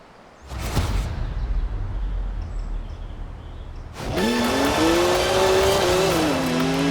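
A BMW 1M in Forza Horizon 4, first a low idling rumble, then a loud engine rising in pitch as the car accelerates hard, with brief tire noise, close and continuous.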